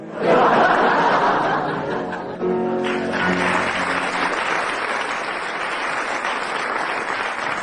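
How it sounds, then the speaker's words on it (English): A radio comedy panel show's studio audience claps steadily and loudly, with some laughter mixed in early on, as the applause carries on to the end. "judging by the audience applause"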